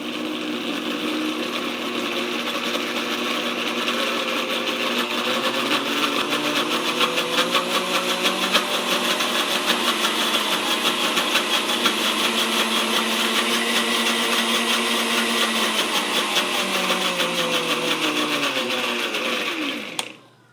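A blender mixing protein pancake batter, a loud continuous whirring motor running steadily for about twenty seconds before cutting off abruptly.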